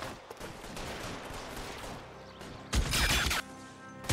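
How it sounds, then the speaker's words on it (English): Gunfire in a police shootout video game, a steady stretch of rapid firing followed by a louder, sharper burst near the end. "I shot him in the face."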